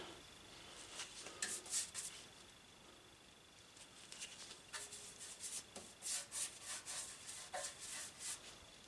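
Bums paint stripper is brushed onto the painted body of a Transportel electric moped. Soft, faint bristle strokes rub and pat in an irregular rhythm and come closer together toward the end.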